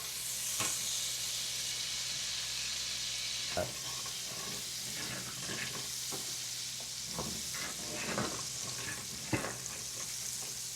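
A spoon stirs and scrapes browned bits from the bottom of a hot pan while the sauce for a creamy lemon and white wine chicken dish sizzles; a soft, steady hiss runs under scattered sharp scrapes and knocks.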